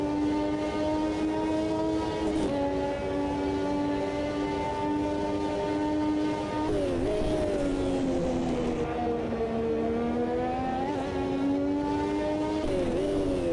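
An F1 car from the 1988 era in a racing video game time trial at Hockenheim, its engine note a steady, high, harmonic whine that rises in pitch through the gears, with short dips at the shifts and no talk over it.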